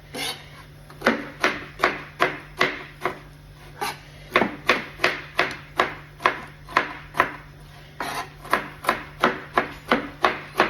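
Walnuts are chopped finely on a board with a knife, giving a fast, even series of crisp taps in short bursts with brief pauses between runs, close up over a low hum, no voices.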